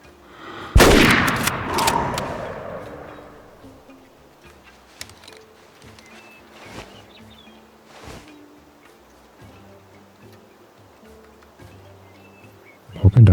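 A single loud, sharp rifle shot cracks out in the hunting game Way of the Hunter, then fades into quiet outdoor ambience with insect buzzing and a few faint ticks.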